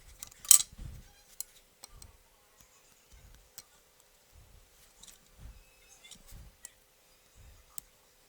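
Scissors cut paper for a handmade paper pencil pouch, giving sparse, faint snips and light ticks spread across a quiet stretch after one louder crinkle near the start.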